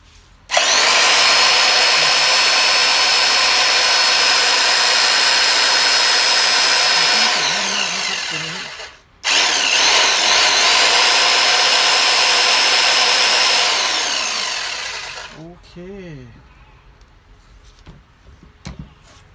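An Ingco electric chisel demolition hammer runs at full power in two long bursts, a loud, steady, buzzing hammering roar. Each burst is switched on abruptly and winds down at the end, with a brief gap between them, heard close up with no talk.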